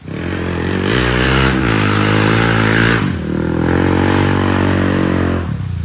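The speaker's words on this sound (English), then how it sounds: "do you also like to ride a motorcycle without a muffler?" An unmuffled motorcycle engine roars loud and close with a raw, rasping harmonic drone, revving in surges that break off near three seconds and again just before the end.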